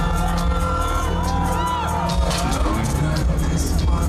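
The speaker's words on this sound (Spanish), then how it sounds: "La gente se la pasa gritando, así no puedo escuchar." A concert audience shouts, whoops and cheers loudly and continuously during a live music performance of a song, the crowd noise filling the recording over the music.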